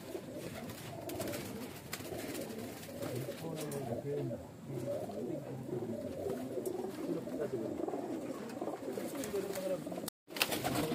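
A loft of breeder pigeons coos steadily, with several birds overlapping in low, throaty rolling calls at close range, a brief dropout near the end and some faint background voices.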